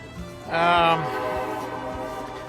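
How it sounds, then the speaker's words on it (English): Freight or passenger train near a hiking trail, heard as a loud horn blast partway through over a continuous rumbling drone that carries on steadily, with no speech. "Train."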